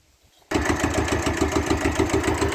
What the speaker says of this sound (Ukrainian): заводимо кубатурика